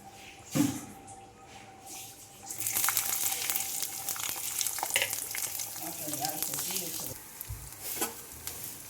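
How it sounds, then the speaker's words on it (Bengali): Chopped onion, garlic and green chilli dropped into hot raw mustard oil, a sudden clatter followed by a loud, sustained crackling sizzle with some stirring, up close. "তেলটা গরম হয়ে গেছে, তাই আগে থেকে কেটে রাখা পেঁয়াজ, রসুন এবং লঙ্কা কুচিগুলো তেলের মধ্যে দিয়ে দিচ্ছি।"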